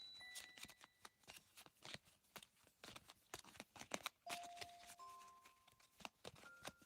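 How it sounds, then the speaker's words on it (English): A deck of oracle cards is shuffled by hand for a past, present and future flower reading, giving a quiet run of soft riffling flicks and taps with a few faint chime-like tones ringing through. "One more to shuffle for Shahata."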